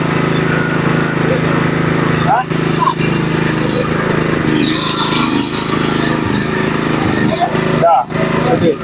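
A 2.8 kW petrol generator, started after long disuse, runs with a steady, loud engine drone that holds evenly throughout, with a couple of brief dips.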